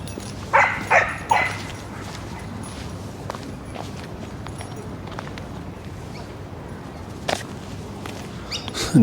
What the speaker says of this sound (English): A noisy cattle dog.